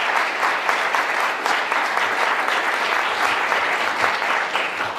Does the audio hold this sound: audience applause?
yes